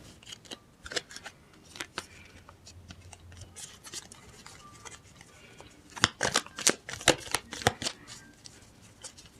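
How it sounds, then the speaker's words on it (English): Playing cards are shuffled in several quick riffling bursts, crisp and close, with pauses between and a louder flurry near the end. "these cards are a little bit hard to shuffle"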